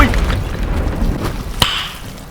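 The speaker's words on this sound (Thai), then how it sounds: "ไม่คิดว่ามันเนี่ยจะทุบแล้วระเบิดนะผม" A hammer smash sets off an explosion in the physics video game Teardown: a sharp, punchy burst stands out against a dense, rumbling background of destruction.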